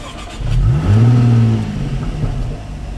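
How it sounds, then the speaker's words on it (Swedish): A Jaguar F-Type V6 with its sport exhaust engaged revs up loudly and close, giving a hard, sharp rise and fall before settling back to a steady idle. "Och som ni hör så är detta då V6-an. Den låter rätt så hårt och vasst."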